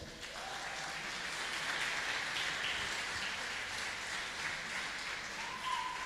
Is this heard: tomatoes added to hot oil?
no